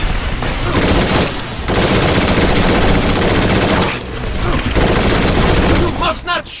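Loud, sustained gunfire from a Binary Domain firefight rattles almost without pause, dense automatic bursts with brief lulls, overlapping voices calling out during the battle.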